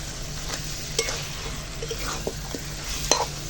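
Goat head meat being sautéed and stirred in a pan, a low steady sizzle with occasional spoon scrapes and clinks against the metal, close and fairly quiet.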